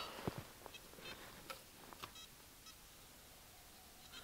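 A metal detector sweeps over ground littered with iron scrap at a Masurian dig site, giving a few faint, short electronic beeps scattered through steady low background noise.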